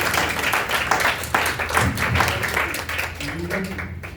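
An audience at a Hindi poetry recital claps in a dense, continuous round of applause, loud and close, while a voice talks over it.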